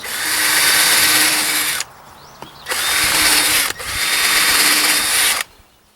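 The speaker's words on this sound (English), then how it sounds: "Now I like to pre-drill this." A power drill pre-drills a deck post cap in two loud, close bursts of steady whirring, each about two seconds long, separated by short pauses with faint handling noise.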